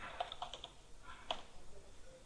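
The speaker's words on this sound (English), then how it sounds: "I am typing my customer ID and the password" Someone types a customer ID and password on a computer keyboard, a few faint, scattered key clicks with short pauses between them and no talking.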